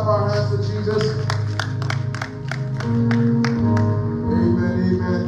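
A church congregation claps along in worship, with a run of sharp hand claps over sustained music and voices, the claps quickening in the middle before the singing carries on.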